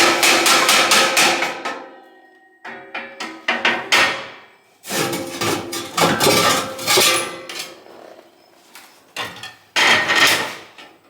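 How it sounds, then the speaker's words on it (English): A hammer beats on the old metal exhaust elbow of a Freightliner truck, delivering loud, ringing metallic blows in rapid bursts of several strikes, separated by short pauses. "I'm gonna just beat that out with a hammer"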